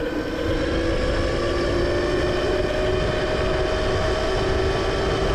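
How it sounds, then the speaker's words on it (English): A Yozma IN 10 electric dirt bike pulls away on the throttle, its steady whine of motor and drivetrain running loud and continuous with wind and ground rumble underneath. "Tap the brake, hit the throttle a little bit."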